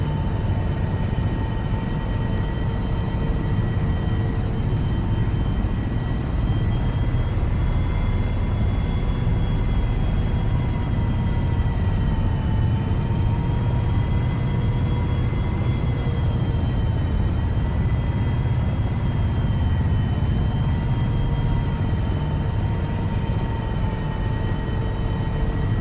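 Steady loud rotor and turbine drone of a helicopter in the military game Arma 3, hovering low near an outpost base with a continuous whirring hum and a faint high whine throughout.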